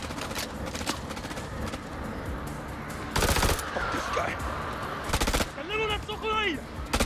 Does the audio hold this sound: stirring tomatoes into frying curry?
no